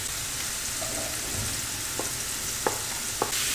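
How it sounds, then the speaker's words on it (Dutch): Vegetables stir-fry in a wok with a steady, close sizzling hiss, broken by a few small clicks and scrapes. "En dan gaan daar de groenten erbij."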